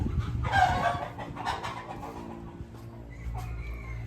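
A fighting rooster clucks and gives short throaty calls close by on a farm, a loud burst at first and then quieter clucking with a brief higher call near the end.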